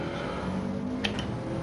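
A race car's engine drones steadily at high revs on the Nürburgring circuit in a racing video game, a continuous mid-level roar with a brief high-pitched chirp near the end.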